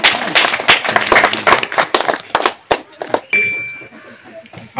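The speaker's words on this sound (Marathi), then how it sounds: "टाळ्या वाजवा कृपया." A crowd claps at a farewell ceremony in Kikwari, sharp uneven claps dense at first, then thinning into scattered individual slaps before a brief quiet stretch with a faint ring and one last clap.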